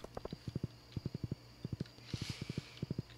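Horse hooves clip-clopping in the farming game Stardew Valley, quick bursts of three to five crisp hoofbeats in repeated runs, soft and close with a faint background hum.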